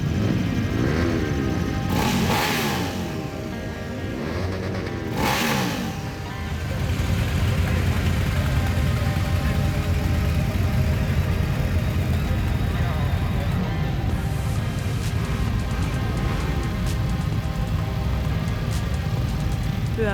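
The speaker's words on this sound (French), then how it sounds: "place au bruit de moteur." Steady engine drone from a group of motorcycles running together, loud and continuous, with voices faintly mixed in early on.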